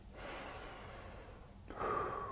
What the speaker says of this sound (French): respiration.